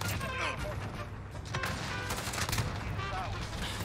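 Bursts of rapid video-game gunfire from a Grau assault rifle in a Call of Duty match crackle loudly and densely, stuttering in overlapping volleys across a few seconds.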